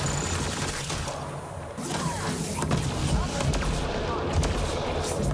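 Sustained gunfire from a Mass Effect Andromeda combat encounter, a dense continuous barrage with scattered sharper shots, loud and close throughout, with speech mixed in.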